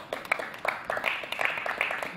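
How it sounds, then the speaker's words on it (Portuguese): An outdoor street worship gathering gives the commentators a round of applause, a light, scattered clapping from a modest crowd that stays fairly quiet and somewhat distant, with a few sharper claps standing out. "Por favor, uma salva de palmas a comentaristas"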